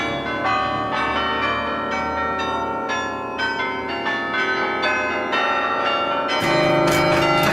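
Church bells rung by a team of bell ringers pour out in dense, overlapping peals that are loud and continuous, with one strike following another and the texture brightening near the end.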